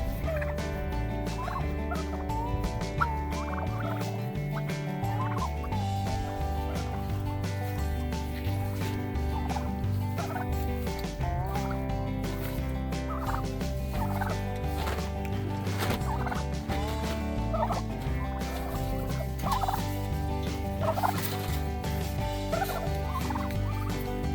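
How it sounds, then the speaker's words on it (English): Turkeys in a flock cluck and gobble continuously in a dense chorus, steady and fairly loud throughout, with no talking. "If you've ever raised turkeys before, you know that little clucking sound's a happy sound"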